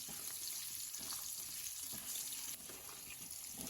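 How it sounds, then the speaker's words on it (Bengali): Potatoes frying in hot oil in a home kitchen: a steady, soft hiss and sizzle with faint crackles, continuous and unbroken, with no voices. "আমি ওই তেলে কয়েকটা আলু ভেজে নিচ্ছি"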